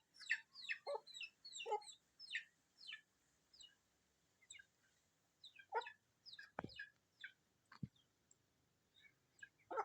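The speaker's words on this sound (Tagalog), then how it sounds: "Tapang talaga niya manok na yan." Chickens cluck and chirp in short, repeated bursts close by, with a few sharp knocks mixed in, against otherwise quiet surroundings.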